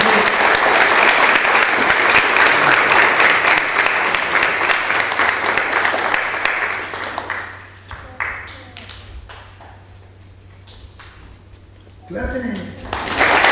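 Wedding guests applaud loudly at a nikah ceremony, dense clapping for about seven seconds that thins to scattered claps and fades, with voices heard briefly near the end.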